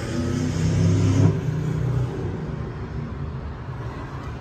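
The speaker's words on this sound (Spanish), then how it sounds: "creo yo que es el 6 cilindros en línea, amigo" A 1988 Ford truck's inline six-cylinder engine revs up close by, swelling to a louder peak before easing back into a steady, rough idle.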